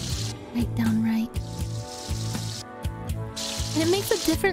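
A dog urinating in the Dog's Life video game gives a steady, sizzling hiss like food frying, broken into several bursts over a low rhythmic backing with brief tonal blips, with a voice talking over parts of it.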